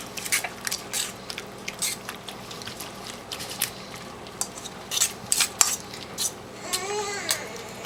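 A spoon or spatula scrapes and clinks around a bowl while the egg and potato mixture for a Spanish tortilla is stirred together, giving a steady run of close, soft wet squishes and light taps with no talking.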